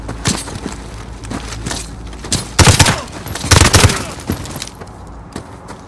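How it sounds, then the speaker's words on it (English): Gunfire erupts in the Call of Duty: Modern Warfare game, scattered shots building into loud bursts of rapid fire and heavy volleys, with faint voices underneath. "Shoot the left too."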